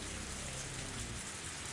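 Heavy rain pours steadily in the Higurashi When They Cry video game, a dense, constant hiss of downpour with no talk over it.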